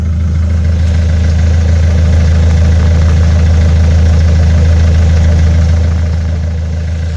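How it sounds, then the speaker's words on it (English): A car engine with its exhaust missing idles steadily with a deep, loud, rough low rumble and constant vibration, unbroken for several seconds with no voices. "Ah, the exhaust's actually missing then."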